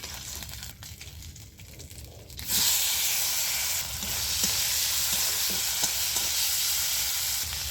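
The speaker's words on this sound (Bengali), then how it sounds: "এবার আমি দিয়ে দিচ্ছি টমেটোর কুচি" Chopped tomatoes hitting hot mustard oil tempered with fennel and nigella seeds, a quiet frying crackle jumping into a loud, steady hiss and sizzle partway through, with occasional stirring taps and no speech.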